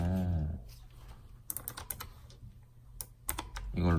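Clicky keystrokes from a thin portable mechanical keyboard with blue switches, a few sharp taps scattered over about four seconds, close and fairly loud, with a voice speaking at the start and end.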